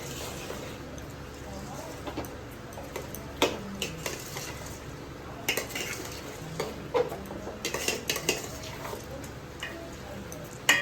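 Food stirred in a cooking pot on a kitchen stove, scattered clinks and scrapes of a utensil against the pot over a low background hiss, with speech at times.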